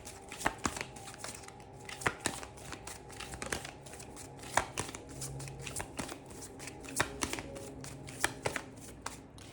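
A deck of tarot cards being shuffled by hand, with repeated crisp riffles and soft flutters in an irregular rhythm, close and fairly quiet, with no talk.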